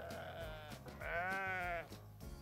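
Sheep bleating in a farm-animal counting song setting: a few short wavering bleats, the longest and loudest in the middle, fairly close and clear with no talking.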